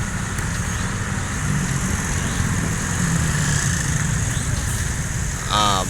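A large bus engine idles with a low, steady rumble nearby at a night bus terminal, with faint voices around it and a brief chirp near the end.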